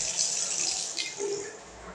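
Water runs from a mixer tap during a plumbing repair, a continuous bright splashing hiss that shifts slightly as the flow changes, close by and with no talking.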